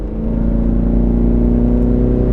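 A modified Pontiac G8 GT with an LS V8 accelerates, its loud, steady low engine drone and rising harmonics filling the cabin continuously with no talking.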